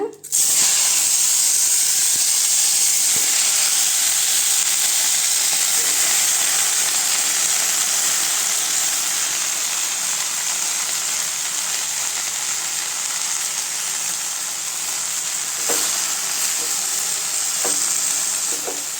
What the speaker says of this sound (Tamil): அதே பாத்திரத்தில் கொஞ்சம் எண்ணெய் சேர்த்துட்டு புதினா சேர்த்துக்கலாங்க.